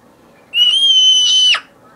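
A single steady, high-pitched whistle blast rings out for about a second, clear and close, then stops abruptly against quiet room tone.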